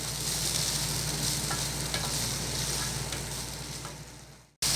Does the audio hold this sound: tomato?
yes